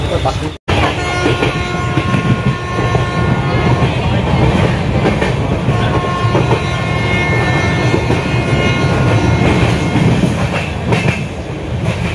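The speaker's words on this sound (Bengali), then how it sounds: "আমাদের ট্রেনটা হচ্ছে ছেড়ে দিয়েছে" A moving passenger train rumbles loudly and continuously, with steady rail clatter and a brief dropout near the start, and faint voices under the noise.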